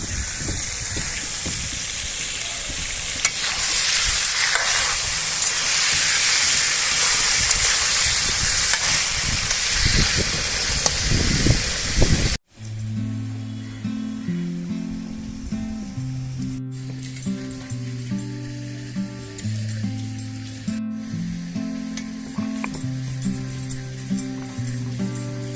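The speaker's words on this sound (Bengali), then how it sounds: "মাংসগুলো ভেজে আমি তুলে রেখে দেবো।" Chicken pieces for a dhaba-style curry sizzle loudly in hot oil, an up-close, steady frying hiss with crackles for roughly half the time, after which it cuts off and only music remains.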